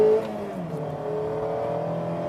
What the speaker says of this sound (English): The 2 litre definitely sounds a little bit more potent, a fair bit fruitier in the exhaust